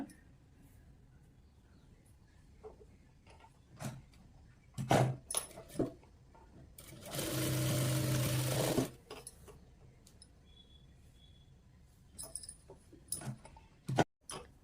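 A sewing machine makes a rough stitch on a blouse, running in one steady whirring burst of about two seconds. Quiet handling clicks and taps of cloth and tools come before and after it, with no voices.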